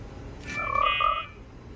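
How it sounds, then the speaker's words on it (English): A frog-like croaking sound is replayed as a short, clear burst about a second long, with a rough voiced tone and bright overtones, heard alone over a faint background hiss. "Yeah, it's the same sound the frog makes."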